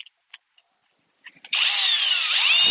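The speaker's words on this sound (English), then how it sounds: "I'm going to run a lag in here with the Seyvum drill" A Seyvum 12 volt brushless cordless drill drives a lag bolt into wood: a few light clicks and taps, then the motor spins up into a loud, steady whir under load that runs to the end.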